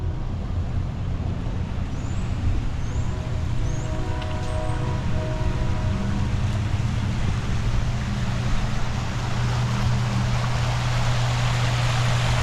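Water pours steadily down a stainless steel pyramid sculpture waterfall in front of a library, a continuous splashing wash mixed with passing traffic rumble nearby.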